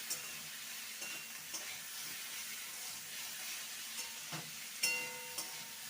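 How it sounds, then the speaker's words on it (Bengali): Grated ginger, about an inch's worth, sautés in a pan for a Bengali spinach dish, giving a steady soft sizzle with faint stirring scrapes and a brief clink near the end. "আদা দিয়ে ভালো করে কষিয়ে নেব যাতে করে আদার কাঁচা গন্ধটা চলে যায়"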